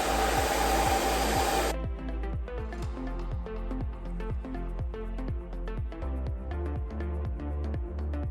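A handheld blow dryer, used with a brush to dry hair, roars loudly for under two seconds and then cuts off, leaving soft background music.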